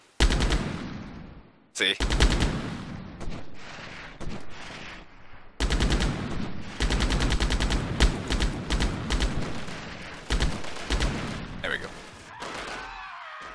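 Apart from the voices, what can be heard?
machine gun firing in video game Delta Force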